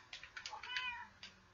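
Cartoonish cats meowing in a video game, several short high meows in quick succession followed by one more after a brief pause, fairly quiet and clear.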